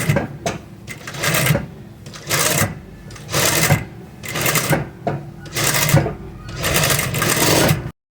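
A sewing machine runs in close, loud bursts of rapid stitching separated by short pauses while gathering fabric for a kurti.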